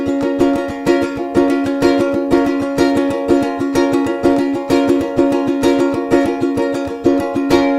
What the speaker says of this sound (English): we're actually playing triplet strums because it's a 6/8